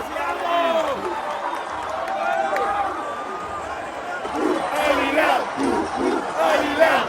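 Football fans in the stands erupt after an Al-Hilal equaliser against Fluminense at the FIFA Club World Cup, a loud, sustained crowd roar with shouting and cheering surging toward the end, under excited commentary.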